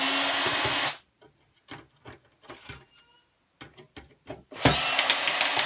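A power screwdriver works the screws out of a Bush DVD player, in short whirring bursts separated by pauses, with a loud stretch at the start and another at the end.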